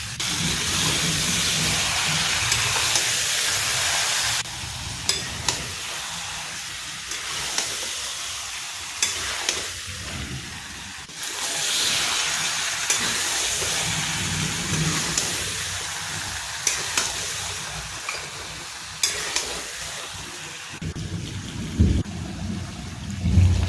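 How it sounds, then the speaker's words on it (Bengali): Meat frying with coriander-cumin paste gives a loud, continuous sizzle with repeated scraping stir strokes, close and steady throughout, with no one talking. "মাংসটা প্রায় কষানো হয়ে গেছে"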